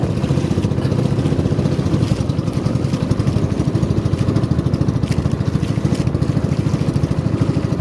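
A Piaggio boat engine runs steadily and loudly up close, a dense mid-low chugging drone with rattling clatter and no pauses, heard while motoring home after fishing.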